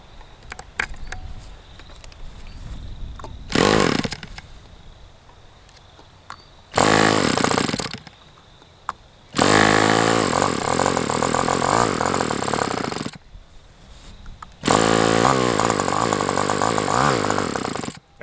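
A small glow engine with a Fox RC short plug runs in loud, raw bursts that cut off between runs and are separated by quieter gaps, close and alone with no speech.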